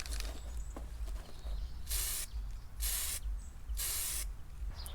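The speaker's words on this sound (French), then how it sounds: "Là, je viens de passer la bombe de primaire" A primer spray can sprays the front bumper of a German car, producing several distinct hissing bursts roughly a second apart, each about half a second long, clear and close over a low background rumble.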